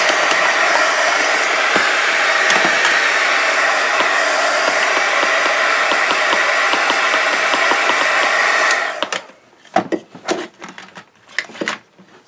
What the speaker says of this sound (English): So I'm going to quick heat set it a little bit.